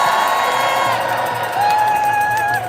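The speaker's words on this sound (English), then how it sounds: "Make some noise if you back the NHS" A rally crowd of union supporters cheers and whoops loudly together, a sustained dense roar of voices with shouts rising over it.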